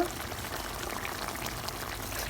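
White mustard paste poured into a simmering pan of mustard-sauce pabda fish curry, a soft steady liquid pour and bubbling hiss with no talk.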